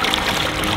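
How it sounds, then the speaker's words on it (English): Steady running water rinsing detergent out of containers in a tub during kitchen meal prep, a continuous close splashing trickle with no pauses. "Rinse them out really good."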